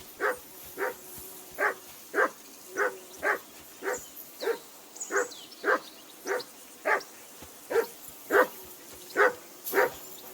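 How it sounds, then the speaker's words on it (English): A dog barks repeatedly in Kingdom Come Deliverance 2, with steady, evenly spaced woofs close up and loud, about sixteen in ten seconds, with no talk over them. "Whistle at that mutt of yours to stop barking!"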